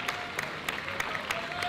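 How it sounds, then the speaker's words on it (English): Faint, distant clapping from a crowd at an elite men's challenge course regional championship, applauding an injured athlete being taken away. The claps come in a loose, repeated rhythm over quiet background noise. "I know you guys can probably hear that clapping there."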